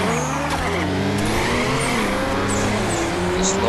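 A drag car launching in Nitro Nation 6, its engine roaring loudly and climbing in pitch through the revs, with tire squeal layered over the steady, close engine drone.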